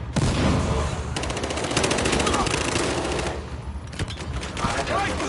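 Automatic gunfire from the Battlefield Hardline video game rattles in loud, dense bursts for several seconds, with a brief voice heard late in the stretch.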